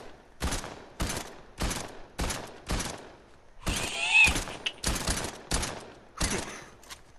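Heavy shotgun fired in a video game, about nine loud booming blasts in a steady rhythm roughly every two-thirds of a second, each one cracking sharply and then fading.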